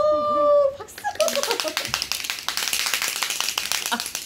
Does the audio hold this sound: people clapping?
yes